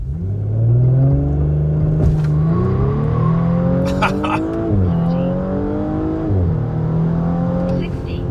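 Audi S4 B9 launching hard on a test run, its engine revving high and climbing through gear changes with brief dips between shifts, loud and close from inside the car, with a voice speaking over parts of it.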